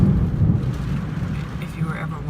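Thunder rumbles low and steady through a lightning storm, heard from inside a car while driving, a continuous heavy roll that persists throughout, with rain-like texture above it.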